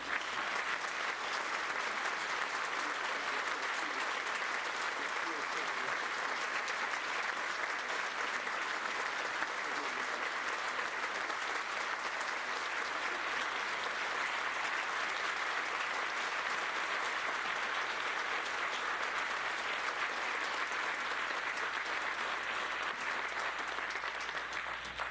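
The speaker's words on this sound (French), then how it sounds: "On s'applaudit." Sustained applause from a large congregation at a church Mass in Quebec, steady and dense clapping for the whole stretch with no pauses or talk.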